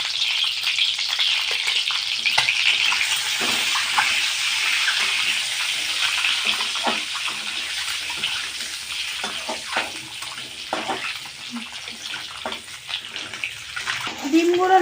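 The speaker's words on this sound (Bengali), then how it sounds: "এরপর ওই তেলের মধ্যেই ডিমগুলো ভেজে নেব।" Duck eggs fry in hot oil with a dusting of turmeric, giving a continuous dense sizzle and spatter that stays loud and close from start to finish, with faint stirring scrapes.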